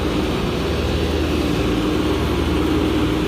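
An HVAC unit's fan and compressor run in a steady, loud, close mechanical roar with a low throbbing hum and broadband whoosh, unchanging throughout.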